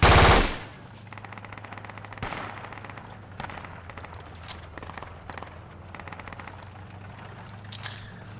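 Gunfire in the military game Project Reality: a loud opening blast followed by repeated sharp rifle and machine-gun shots, some near and some distant, over a steady low rumble.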